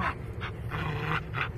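A dog pants close by in quick, rhythmic breathy puffs, about four bursts over a second and a half, with no talking.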